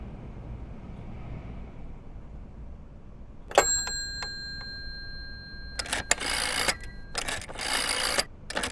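In the horror video game Layers of Fear, an old telephone gets used: a sharp bell-like ring, then a series of loud mechanical rattles and clicks, like dialing, over a quiet background hum.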